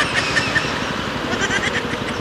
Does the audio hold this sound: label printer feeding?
no